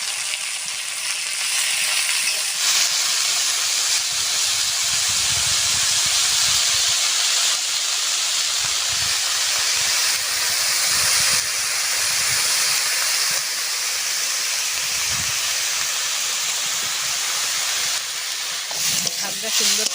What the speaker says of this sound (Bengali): শাকটা সুন্দর করে ভাজা হয়ে গেছে